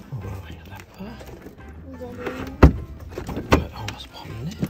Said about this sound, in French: Allez, on va ouvrir la porte.